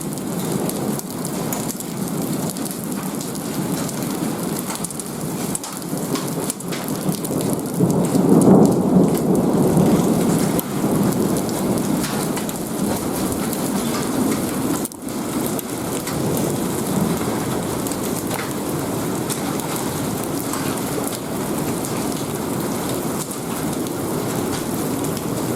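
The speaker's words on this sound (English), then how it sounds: "we're definitely in a storm" Heavy rain pours steadily throughout an extreme thunderstorm, with rolling thunder swelling loudly near the middle and a sharp crack partway through, a dense continuous roar with no talking.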